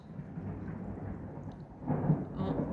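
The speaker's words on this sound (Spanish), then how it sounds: "ya empiezan los truenos" Distant thunder rumbles low and steady during a rainy storm, swelling louder toward the end, heard indoors at a crochet table.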